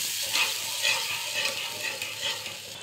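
Egg korma gravy with milk and ground spices is stirred in a hot pan, a continuous close sizzle with soft rhythmic swells from the spoon moving through it, no speech.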